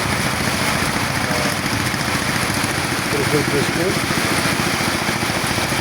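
A boat engine runs steadily on the Teesta river, a constant mid-pitched drone heard close by under a man's speech.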